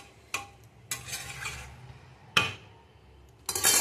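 Chopped stem greens are stir-fried in a pan with black cumin, garlic and chilli, sounding as bursts of sizzle and clattering stirring against the pan between quieter stretches, close and without talk.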